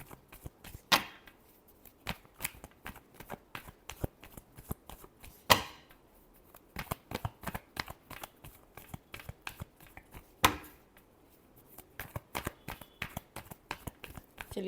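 Tarot cards are shuffled by hand in a close, quiet room, giving a long run of crisp, irregular riffles and flicks with a few sharper snaps standing out. No one speaks.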